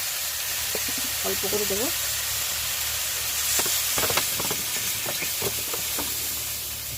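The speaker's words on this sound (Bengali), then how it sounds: "ঝোল ঢেলে দেবো, জল ঢেলে দেবে" Water poured into a hot pan of fried potato and pumpkin for a village-style rohu fish curry gives a steady broad sizzle and steam hiss throughout, with a voice speaking briefly over it.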